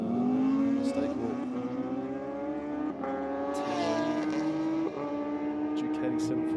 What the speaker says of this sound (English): Next pair of bikes up at the line.